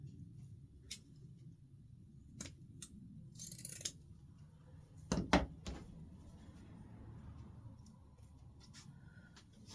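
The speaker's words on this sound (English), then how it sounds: "I think that needs to be cut a little bit more." Scissors snipping leftover ribbon scraps for a bow, a few quiet crisp cuts scattered over a faint, hushed room background, with a slightly louder cluster of snips midway; no speech.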